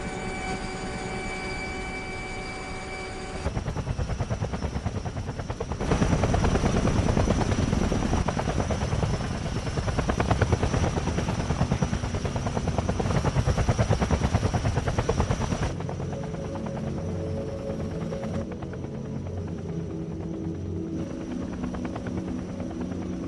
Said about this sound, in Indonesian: Tak lama kemudian helikopter yang mereka tunggu pun datang.